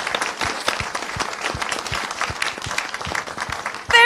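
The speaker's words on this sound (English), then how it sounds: "Can I please get a round of applause for my panel?" An audience claps for a science week question-time panel, a steady patter of many hands with a few sharper individual claps, ending in a louder burst.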